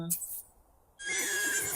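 A horse whinnies in The Sims 3 life-simulation game, a short clear call rising over dense game audio and background music.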